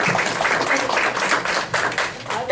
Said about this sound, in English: Now you can clap a lot if you want to.